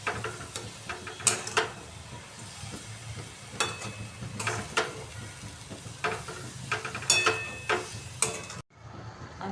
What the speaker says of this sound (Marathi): मंद आचेवर हलवूया.